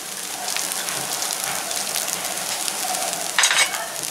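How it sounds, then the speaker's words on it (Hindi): Roasted peanuts tipped into a pan of frying poha, a steady close sizzle with a short bright rattle and crackle as the nuts land. "तो 2-3 मिनट तक इसे मैंने फ्राई किया है और अब मैं इसमें रोस्टेड मूंगफली डाल रही हूँ।"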